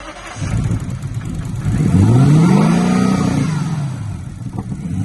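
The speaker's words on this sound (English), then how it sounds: "we're gonna try to start this one more time with the throttle pretty much all the way open" A Lexus LS 460 engine cranks and then catches with the throttle held wide open, swelling into a loud, rising roar that peaks and slowly falls away, heard close with no talking.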